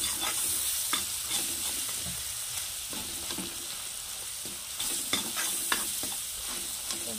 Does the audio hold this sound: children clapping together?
no